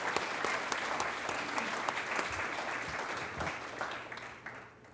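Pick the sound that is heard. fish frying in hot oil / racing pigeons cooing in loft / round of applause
round of applause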